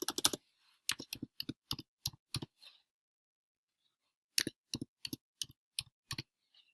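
Keys on a computer keyboard are tapped in two quick bursts while a password is typed, crisp close clicks with a silent gap between the groups, no voices.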